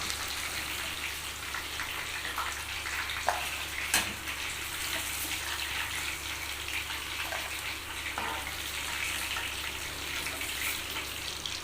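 Chicken chilli bonda frying in hot oil gives a steady, dense sizzling hiss throughout, with a couple of brief clicks near the start.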